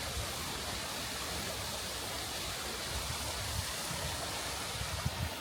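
Canal water rushes down into a tunnel with a loud, unbroken roar like a small waterfall, heard close and steady.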